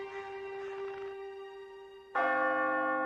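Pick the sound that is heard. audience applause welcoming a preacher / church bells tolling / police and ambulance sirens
church bells tolling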